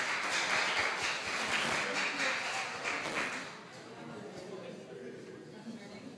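Audience applause at a hybrid webinar on MICE trends, a dense steady wash of clapping and murmured chatter that is loudest for the first few seconds, then thins and softens toward the end.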